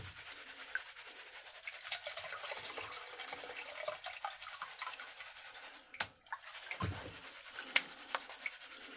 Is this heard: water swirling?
yes